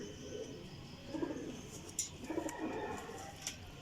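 A pigeon from a flock of champion flying pigeons coos softly in a few low, rolling phrases, close by and fairly quiet, with a couple of faint clicks.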